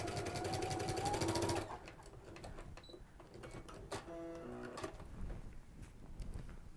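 Sewing machine fitted with a walking foot stitching satin, a steady close whirring run that stops after a second or two, followed by quieter mechanical clicks, rattles and handling of the fabric.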